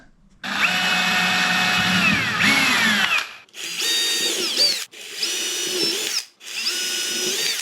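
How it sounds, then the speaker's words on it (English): A power drill runs in several bursts, a long steady whine followed by three shorter runs with brief pauses, close and loud, drilling 1/8-inch holes in an Old Town Sportsman 120 kayak. "drill 1/8 inch holes in the 4 locations"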